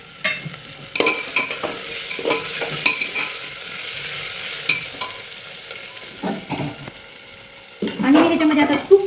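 Peeled potatoes, peas and peanuts fry in a pan for a homemade dal khichdi, with a steady low sizzle broken by repeated scraping stirs of a spoon. A louder burst of sizzling comes near the end.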